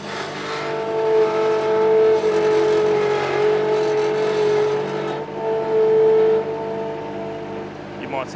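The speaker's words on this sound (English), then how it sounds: "Bring the revs up." The Barradore drag car's engine holds a loud, steady droning rev, swelling and easing in long surges with a strong sustained tone, and a voice is heard briefly.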